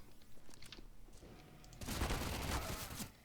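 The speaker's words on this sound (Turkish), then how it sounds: "Dur, Tamam, Apo, yanlışlıkla sana sıktım" Rapid gunfire from a weapon in the video game CS GO crackles in a dense burst during the second half, following quieter clicks and rustles, fairly faint overall.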